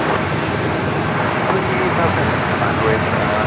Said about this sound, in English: this is flight 640, a 10-year-old 787-9 Dreamliner